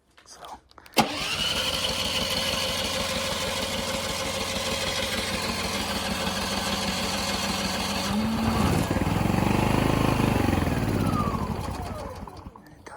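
Powerhouse PH2100pri generator started by an aftermarket remote start, a sharp click then the engine catching and settling into a loud, steady close idle with a rising then falling pitch shift near the end.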